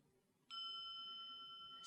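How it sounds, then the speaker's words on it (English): A single meditation bell is struck gently, a clear pure ring that starts sharply and then sustains softly, fading slowly in an otherwise quiet room. "And then a gentle ring of the bell"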